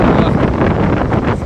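Strong storm wind on the Sochi coast buffets the microphone in a steady, loud roar, with the rush of surf mixed underneath throughout the short stretch.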